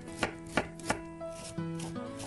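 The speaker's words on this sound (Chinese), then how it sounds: "洋葱先切片，" Knife chopping an onion on a cutting board in a home kitchen, three crisp evenly spaced chops close up, then a steady tonal hum carries on underneath.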